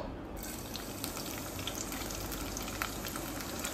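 Soya chunks with chopped garlic frying in hot oil, a steady dense sizzle with small crackles that carries on the whole time, close and alone with no talk.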